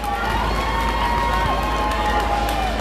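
At a protest where a slaughterhouse truck blocks the entry to a Department of Health building, a crowd cheers an arrest, a continuous loud roar of voices with high shouts mixed in.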